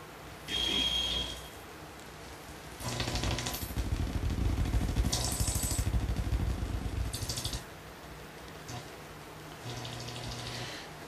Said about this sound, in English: Oh, good old AM radio.